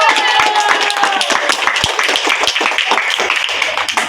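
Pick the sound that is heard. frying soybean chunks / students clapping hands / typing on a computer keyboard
students clapping hands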